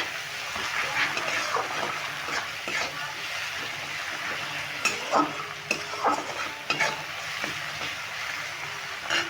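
Onions and tomatoes with turmeric and salt stirred and fried in a pan for a banana flower curry, a soft sizzle under repeated scraping spatula strokes, close and fairly quiet.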